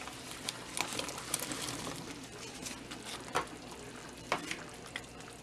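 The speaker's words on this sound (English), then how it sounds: "you're just going to mix it up and put in your potatoes" Potato soup in a pot is stirred and potatoes are dropped in, giving a steady soft sizzle and bubbling with faint scraping and occasional louder knocks.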